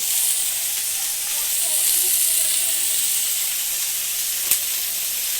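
Onion sizzles in a hot pan in a village kitchen, a steady hissing fry that holds level throughout, with one sharp small tap near the end.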